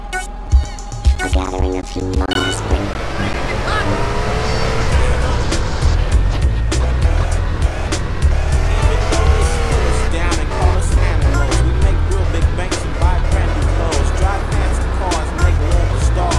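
Cars racing in Grand Theft Auto: San Andreas, with loud engines revving and sustained, tires squealing, and passes over a steady rumble, while voices talk over parts of it.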